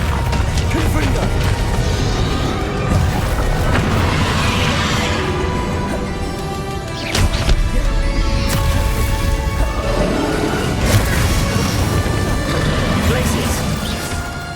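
Confringo blasting spells fire in Hogwarts Legacy during a tower fight, producing loud smashing crashes and thwacks amid a steady roar of battle effects, with a few sharp peaks.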